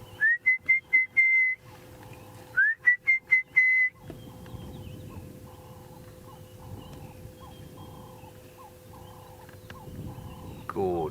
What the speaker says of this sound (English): In the background you can hear the orange-breasted bushshrike.